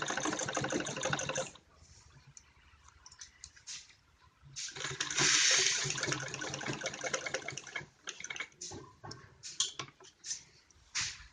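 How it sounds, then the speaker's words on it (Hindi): Sewing machine stitching piping along a necklace-shaped neckline on fabric: loud bursts of rapid mechanical whirring and clatter, pausing briefly and then resuming, close up and alone. "इसी शेप के ऊपर सिलाई लगाएंगे"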